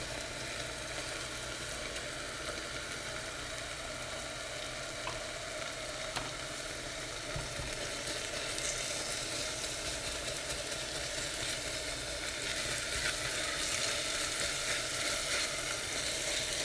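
Yogurt kadhi boiling in a covered pot, a steady soft hiss and bubbling simmer that runs evenly throughout without voices.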